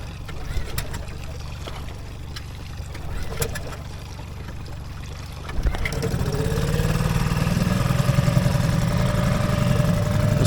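A small outboard boat motor on a fishing boat starts up and idles, a steady low putter rising in after a few seconds of quieter mechanical noise and close by.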